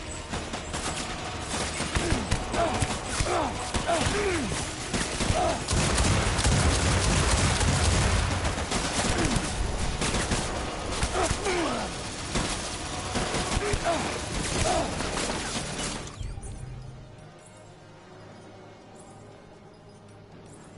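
Sustained gunfire in the video game Death Stranding: dense, rapid bursts of shots fill the scene for about sixteen seconds, loud and close, before cutting off abruptly to a quieter background, with a voice speaking over it.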